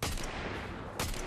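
Gunfire in the Fortnite video game: a dense burst of shots at the start and a second loud burst about a second later, with steady rumbling between them and no one talking.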